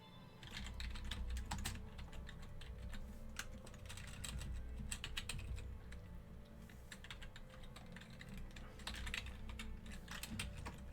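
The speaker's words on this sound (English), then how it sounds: "what even is my typing today?" Fast, uneven typing on a computer keyboard during a programming session, a dense stream of close clicks and clacks with a few brief pauses, heard alone.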